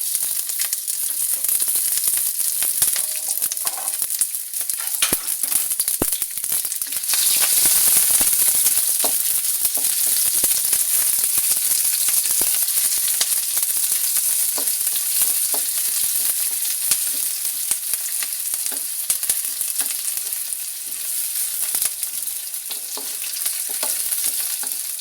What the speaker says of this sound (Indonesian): Goreng bawang bombay.